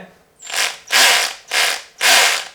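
A cordless drill's clutch slips after a screw is fully tightened, giving four loud, close ratcheting bursts in an even rhythm with short gaps between them.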